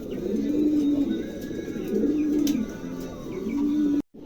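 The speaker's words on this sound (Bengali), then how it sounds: "চমৎকার একটা কবুতর।" A caged pigeon at a pigeon seller's stall coos in low, rolling phrases, about three in a row, with faint chirps from other birds in the background.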